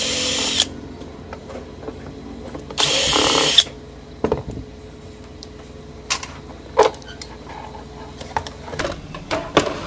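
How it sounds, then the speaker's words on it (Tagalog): A power drill backs screws out of the heatsink of a split-type aircon outdoor unit, with short whirring bursts separated by pauses, metallic clicks and light handling knocks nearby. "Tanggalin muna natin yung mga screw para matanggal natin yung pinaka-heatsink."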